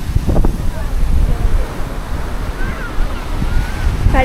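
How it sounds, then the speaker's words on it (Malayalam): Sea waves rolling and breaking on a beach with a loud, continuous surf roar and wind buffeting the microphone, while voices sound intermittently. "അടിപൊളി തിരകൾ വന്നുകൊണ്ടിരിക്കുന്നു"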